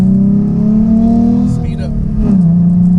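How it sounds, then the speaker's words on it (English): A Ford Mustang Black Transformers Edition with a Roush exhaust drones loudly at steady revs, the engine note easing off and then climbing again with a few crackles and pops in between; a person talks over it. "listen to the crackles and pops. That's what I love about the Roush exhaust over the MagnaFlow."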